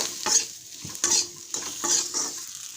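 Diced potatoes with turmeric and salt being stirred in an oiled pan, several scraping spatula strokes over a soft steady sizzle, close and moderately quiet, no voices.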